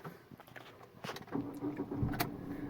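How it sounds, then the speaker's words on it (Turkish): A Ford Fiesta with a 1.5 TDCi diesel engine starts up, with a few clicks and a brief crank before settling into a low, steady idle hum, heard from close by without talk. "dizel motorumuzun sesi"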